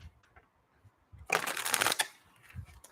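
Quiet handling noises, then a brief burst of tarot cards being shuffled for under a second, crisp riffling close up, followed by soft taps.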